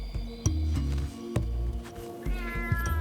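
A feral cat in the Australian outback meows repeatedly, with several drawn-out calls rising into a wavering, caterwauling tone near the end, plus a few sharp thuds in between.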